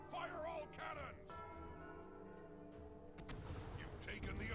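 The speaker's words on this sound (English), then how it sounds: "Red team, ring the bell. Fire all cannons." In Guild Wars 2, cannons fire and a bell rings with a struck, ringing tone, then booming blasts follow, heard faintly under game sounds and talk.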